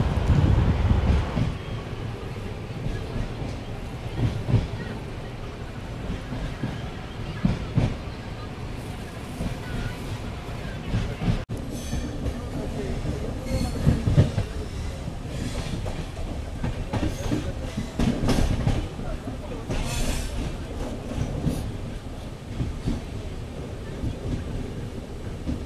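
Pandian Express passenger train running on the Chennai–Madurai line, a steady loud rumble with rhythmic clickety-clack of wheels over rail joints and wind noise throughout, with some voices faintly in the background.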